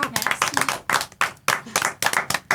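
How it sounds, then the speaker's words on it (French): Podcast guests clapping in a studio, a few hands beating in uneven bursts with short pauses between, close and fairly loud, without talk. "On applaudit."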